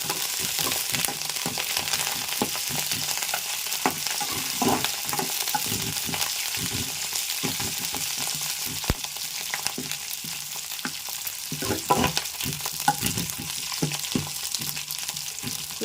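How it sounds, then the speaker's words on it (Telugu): Curry leaves and green chillies crackling in hot tempering oil, a loud, dense and continuous spitting sizzle with scattered sharper pops throughout, close and with no talking. "చూసారా, కరివేపాకు వేస్తే పెద్ద అడవిడి చేశారు."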